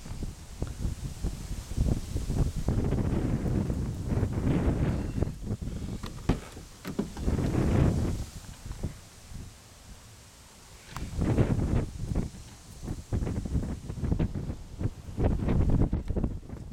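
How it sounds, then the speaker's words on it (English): Gusty wind buffets the microphone outdoors beside a 2006 Jeep Wrangler Sport 4x4, loud rumbling bursts rising and easing over several seconds with a calmer lull in the middle. "A little windy today."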